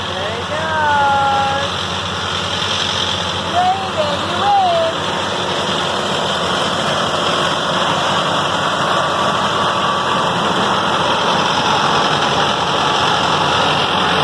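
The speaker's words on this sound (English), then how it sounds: "is he coming with the tractor?" A tractor engine idles steadily nearby as a low, even hum, with faint birdsong and brief chirps over it early on.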